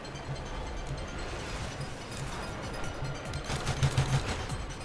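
Pistol shots fired in a first-person shooter video game, a steady run of rapid cracks, dense and continuous, growing louder and more clustered toward the end.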